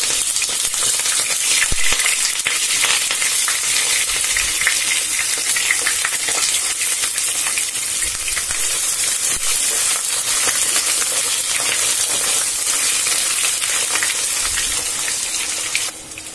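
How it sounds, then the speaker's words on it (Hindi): Small eggplant pieces fry loudly in hot oil for a dhaba-style baingan aloo sabji, a dense, continuous close crackle and hiss with no talk. "अब इन इस बैगन को हम तेल में डाल के फ्राई कर लेंगे"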